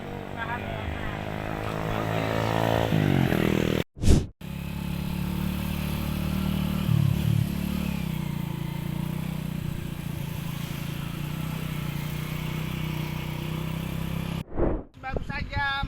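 A motorcycle engine drones steadily while riding a rough road toward food estate farmland in Central Kalimantan, loud and close, with brief wind-buffeting dropouts and a voice talking over it.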